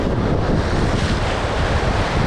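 Ocean surf breaking on a Sri Lankan shore during a fishing outing, a continuous loud roar of waves with wind buffeting the microphone throughout and no talk.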